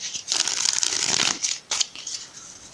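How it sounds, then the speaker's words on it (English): Tarot cards being shuffled in hand, a long riffling burst followed by two quick shorter riffles, crisp and close, with no one speaking. "Okay, one more shuffle."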